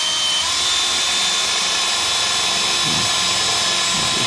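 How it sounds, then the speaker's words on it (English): A power drill runs steadily as it bores a 1/2-inch hole in a Dodge Dakota truck frame while cab mounts are fabricated for a 1952 Studebaker 2R5, a loud, continuous high whine close by. "gonna drill a 1/2-inch hole"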